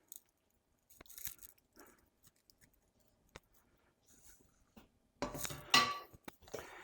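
Meatloaf mixture with panko, eggs and chopped onions is worked together by hand in a bowl, giving quiet, sporadic squishing and clinking sounds that build into a louder, wetter churn near the end.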